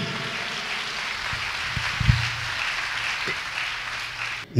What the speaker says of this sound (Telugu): చప్పట్లు కొట్టాలి, గట్టిగా సంతోషంగా కొట్టాలి.